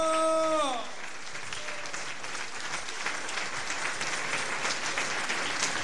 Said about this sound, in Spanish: No merece un aplauso de pie